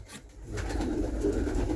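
Pigeons coo in a loft, low throaty calls close by that swell after a brief quiet start and continue steadily.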